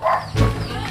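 A dog named Frankie gives a short bark outdoors near a mango tree during a treasure hunt in Bohol, one brief loud woof over background noise.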